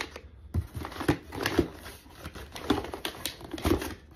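A plastic specimen bag from a Cologuard stool collection kit being pressed shut, giving a string of soft crinkling clicks and snaps at close range, several distinct crackles spread over a few seconds with no talk.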